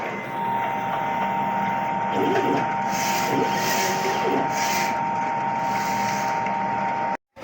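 An inkjet printer running a nozzle test gives a steady mechanical whir with a sustained high tone, continuous for about seven seconds before stopping abruptly.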